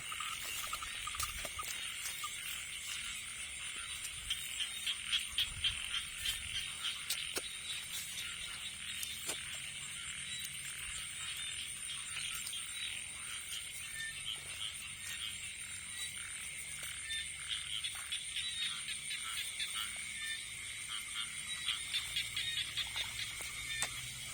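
A dense chorus of frogs croaks steadily in a flooded rice paddy as water is let in before ploughing, a continuous layered trilling that stays fairly distant and even throughout.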